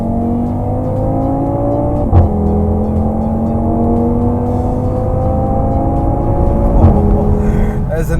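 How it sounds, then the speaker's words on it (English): A 2018 Audi TT RS accelerates hard with a rising engine and exhaust roar, and two sharp gear changes break the climbing pitch before it builds again, loud and close throughout. "there's a nice sound that the exhaust makes when the car changes gear"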